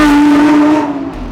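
A Lamborghini engine roars loudly and close by in the Silverstone pit lane, with a strong tonal drone that gradually falls in pitch as the car passes and fades.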